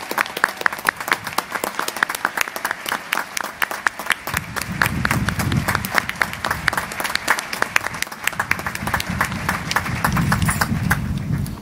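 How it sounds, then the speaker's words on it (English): A crowd at a US Navy JAG change-of-command and retirement ceremony breaks into sustained applause, dense clapping from many hands that swells midway and carries on for over ten seconds. "Can we please give Barb a big round of applause?"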